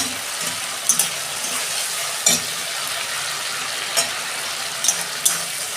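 Tomatoes hissing in hot oil in a tengra fish curry, a steady loud sizzle close by with occasional clinks of a spoon against the pan.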